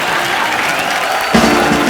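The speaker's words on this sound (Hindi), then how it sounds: "तो जोरदार तालियां मिस्टर मीर के लिए।" A studio audience at a Hindi comedy talk show claps in a steady, dense wash of applause that swells briefly louder near the end, with no talking.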